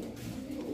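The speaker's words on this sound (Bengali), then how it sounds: "সিলভার কবুতর রয়েছে বাচ্চা" Pigeons coo at a pigeon market where silver high-flyer birds are sold, a brief low, soft warbling coo, close and continuous.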